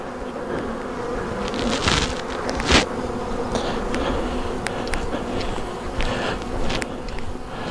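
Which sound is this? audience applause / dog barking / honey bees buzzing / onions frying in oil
honey bees buzzing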